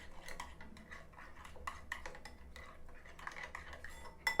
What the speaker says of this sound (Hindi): और अब सारे मसालों को अच्छे से मिक्स कर लेंगे।